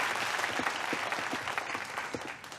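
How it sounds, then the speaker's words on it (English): Audience applause greets the introduction of a husband and his divorce lawyer, Mr. Boris Chuisky, at a formal gathering; dense, steady clapping fills the full stretch at an even level with no talk over it. "Applause, please."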